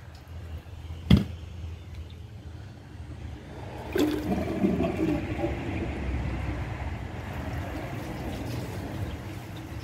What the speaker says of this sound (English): And it's still flushing.